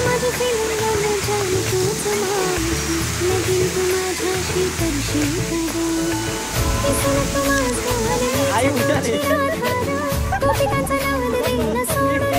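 Hidden waterfall near the old Mumbai–Pune highway, a constant broadband rush of falling water heard under loud music and people talking.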